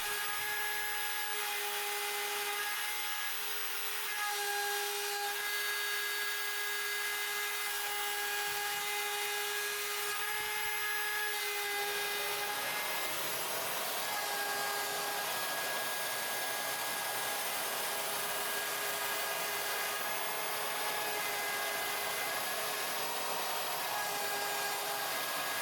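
A mostly 3D-printed MPCNC machine mills aluminum, giving a loud, steady high-pitched whine with a sustained tonal cutting drone that shifts pitch midway as the cut changes, running continuously with no talking.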